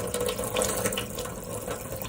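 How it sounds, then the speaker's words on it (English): Hot water runs steadily from a sink tap into a basin, a close, continuous splashing rush with no voices over it. "Now it's super cold in here, so I'm putting on the hot water."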